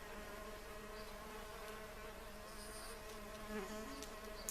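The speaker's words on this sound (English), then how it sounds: "You can see again there a blue mason bee just exploring one of the tubes." A blue mason bee buzzes steadily around nest tubes, a faint continuous drone with small shifts in pitch as it moves about.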